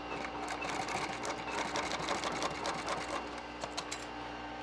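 A sewing machine runs steadily at close range, stitching single-line pleats into an upholstery seat cover for a 1947 Ford, its rapid needle clatter continuous with slight shifts in pace and no talking.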